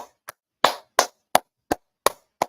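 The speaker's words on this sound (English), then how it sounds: "Clap it up, man." Hands clap alone, about eight sharp, crisp claps with slightly uneven spacing.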